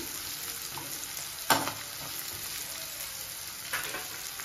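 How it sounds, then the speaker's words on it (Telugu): Onions and capsicum fry in a little oil for restaurant-style chilli chicken, a constant sizzle broken by a sharp scrape of a stirring spoon and another clatter near the end. "నేను తక్కువ ఆయిల్ వేసి ఫ్రై చేస్తున్నాను"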